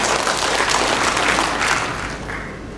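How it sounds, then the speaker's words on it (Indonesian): An audience at the Pos Kupang Award 2025 ceremony breaks into warm applause, a full burst of clapping that gradually thins and fades toward the end. "Tepuk tangan buat Poskupang dulu."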